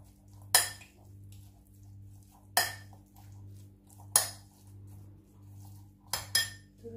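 Cutlery stirring seasoned filling for Vietnamese spring rolls in a bowl, heard as four sharp, separate metallic clinks, the last a quick double, over a faint low hum, no talk.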